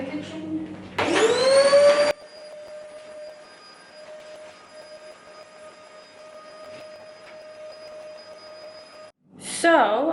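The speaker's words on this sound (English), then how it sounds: "So the last thing I'm going to do is just vacuum the kitchen." A vacuum cleaner runs across a kitchen floor, spinning up with a rising whine, then humming steadily at a lower, quieter pitch before surging loudly again near the end, close by and with no talking over it.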